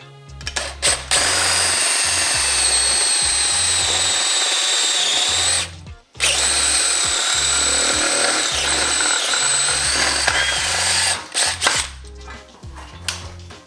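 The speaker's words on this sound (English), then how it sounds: "So we've got to drill a hole, you know, that big." A power drill with a step bit whines loudly and steadily while boring a large hole, pausing briefly midway before grinding on, with a low rhythmic thumping underneath.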